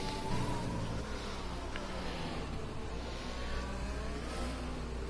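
A race car engine in a sim racing game at Brazil, droning steadily at high revs with slight pitch shifts as the car works down through the gears, heard alone and loud without any talk over it.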